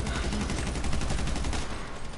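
Rapid bursts of gunfire from the video game GTA 5 rattle in a dense, continuous volley, loud and close, with no clear gaps between shots.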